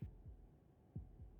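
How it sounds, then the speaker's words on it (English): Heartbeat from the video game Slay the Princess: low, muffled thumps in two lub-dub pairs about a second apart, close and quiet over a faint hum. "That was the sound of a heartbeat,"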